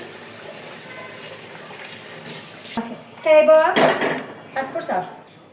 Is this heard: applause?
no